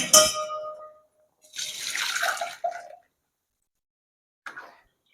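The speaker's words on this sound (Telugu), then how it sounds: "ఇప్పుడు మనము సగ్గు బియ్యము ఫిల్టర్ చేసుకొని" Water drains from soaked sago pearls being strained for payasam: a short splashing pour, a longer gushing spill that fades, then a brief final trickle after a pause.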